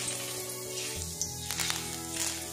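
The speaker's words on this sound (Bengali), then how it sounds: "অল্প অল্প তেলের মধ্যে এইভাবে ডুবিয়ে নেব, তা পাতাগুলো খুব সুন্দরভাবে ফ্রাই হয়ে যাবে।" Curry leaves crackling in a little hot oil, a faint steady sizzle with light popping spatters, close and without talk.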